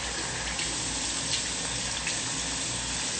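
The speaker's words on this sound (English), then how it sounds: "Water splashing everywhere." Water running hard from a tap into a sink, a steady broad splashing rush throughout, close and fairly loud.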